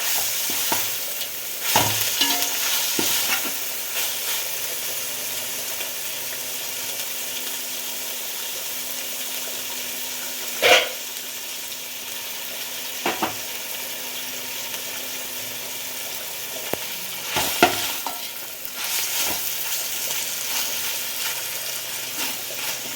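Coriander and mint leaves fry with ginger-garlic paste in a pan for a milk pulao, giving a steady, close sizzle throughout, broken by occasional sharp clacks of stirring against the pan.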